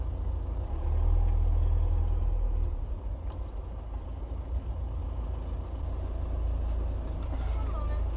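A 2006 Volkswagen Jetta TDI diesel engine idles with a loud, steady low rumble that may come from an exhaust leak, continuous and close throughout with no pauses.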